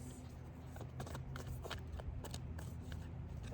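Tarot cards being shuffled, several quick riffling bursts at close range over quiet room tone, no talking.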